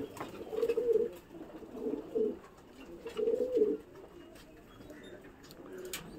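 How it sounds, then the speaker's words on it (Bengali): Pigeons coo while they eat: several low, throaty coos in short bursts, close and moderately loud, with quiet gaps between them and no voices. "এখন পায়রাগুলো দেখছেন খাচ্ছে"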